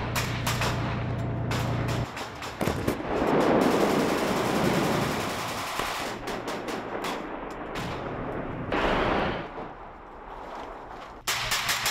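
Russian artillery and rocket-launcher fire on Ukrainian positions near Bakhmut comes as rapid cracking bursts and heavy rumbling blasts across several abrupt cuts, loud and without talk.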